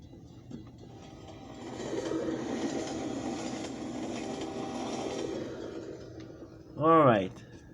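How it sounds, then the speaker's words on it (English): A train in the Garry's Mod video game rolls past a station with a steady rumbling clatter that swells and fades over several seconds, followed by a short, loud, sweeping tonal call near the end. "Wait for the train to pass."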